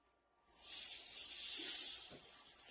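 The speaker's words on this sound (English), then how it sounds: "Got a little sizzle there if you can't hear it." A steak sizzles on a Chefman AccuGrill smokeless indoor grill, a bright steady hiss that starts abruptly and holds, then drops to a quieter sizzle with a faint clink or two.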